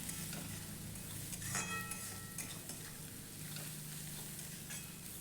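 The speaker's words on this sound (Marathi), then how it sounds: "मस्तपैकी कांदा सोनेरी रंगावर येईपर्यंत भाजून घ्यायचा" Onions frying in a pan with salt until golden for a Konkani-style dill leaf vegetable dish, a soft steady sizzle with occasional stirring scrapes, fairly faint and close.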